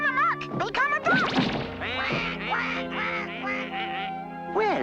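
A cartoon duck gives a rapid run of loud, nasal quacks, mixed with comic smacks and crashes, then trails off into a few final quacks.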